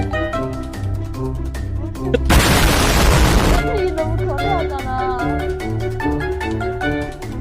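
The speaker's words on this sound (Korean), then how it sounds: "실수로 수류탄 던졌어" A grenade explodes in a video game, a loud broadband blast lasting about a second, set over continuous game music and effects.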